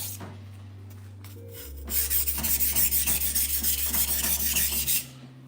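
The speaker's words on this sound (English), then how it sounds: "You gotta sharpen it like you hate it." A cheap kitchen knife scraped in steady back-and-forth strokes across a sharpening stone, a loud rhythmic rasping run of about a dozen passes, preceded and followed by quieter background hum.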